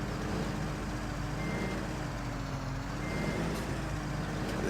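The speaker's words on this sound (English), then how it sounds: "I hate reversing these type of trailers that have the" A truck reversing with a twin-steer trailer, its engine rumbling steadily while reversing beeps repeat faintly above a dense, noisy background.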